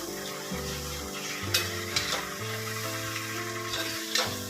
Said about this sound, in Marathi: आता मी हे आता फ्राय करणार आहे.